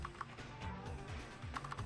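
Keyboard keys clatter in quick irregular bursts during a Typing of the Dead run at a speedrun marathon event, with faint game music and crowd ambience underneath.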